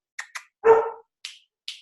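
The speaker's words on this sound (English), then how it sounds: "sorry, that's my dog." A dog named Maddie barks indoors during a home interview: two short sharp yips, a louder fuller bark, then two more high yelps, close and loud with no talk.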